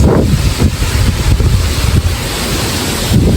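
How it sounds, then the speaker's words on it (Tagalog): Strong wind buffets the microphone in heavy, roaring gusts in an outdoor vegetable garden, continuous and loud, with a rushing surf-like wash underneath. "Lakas ng hangin ngayon o."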